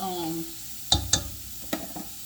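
Seafood gumbo with shrimp tails and crab legs stirred in a pot, several sharp clinks and scrapes of the spoon against the pot over a steady simmering hiss, with a brief voice at the start.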